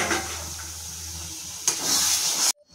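Water is poured into frying masala in a pan, releasing a loud sizzling hiss that surges midway with a sharp burst of spluttering before cutting off abruptly.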